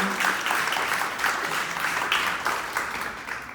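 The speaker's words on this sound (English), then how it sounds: "Can we give them a round of applause" An audience at an art exhibition reception applauds, a short burst of clapping from a modest crowd with distinct individual claps pulsing through, fading slightly toward the end.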